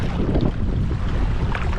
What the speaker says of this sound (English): Fight this wind